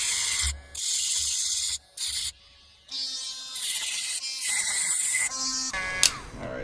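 Grinder working the welded thread protector off a WBP Mini Jack with its 14x1 left-hand thread, a harsh abrasive rasp in several bursts broken by short pauses, loud and close.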